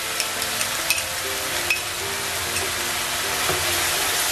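Ginger garlic paste frying with lightly browned onions in a pan, a dense continuous sizzle and crackle held close and steady with a few faint clicks, no speech.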